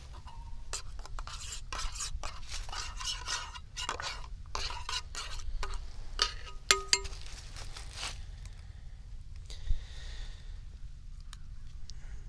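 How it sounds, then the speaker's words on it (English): A spoon stirring coffee in a TOAKS titanium 600mL pot, with light metallic scraping and repeated clinks in an irregular rhythm, close and fairly quiet. "Give it a good stirring."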